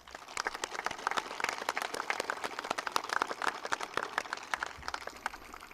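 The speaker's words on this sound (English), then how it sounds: "it is time to thank your families by giving them a round of applause" A high school graduation audience gives a round of applause for the families, a dense, fairly quiet patter of many hands clapping steadily at a distance.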